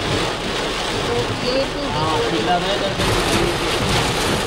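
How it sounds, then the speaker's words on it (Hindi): Heavy thunderstorm rain drums steadily on a car roof in a dense, unbroken roar as the car shakes, with a faint engine hum beneath and a voice briefly audible. "बहुत तेज वाली थंडर स्टॉर्म्स आ रहे हैं, पूरी गाड़ी हिल रही है"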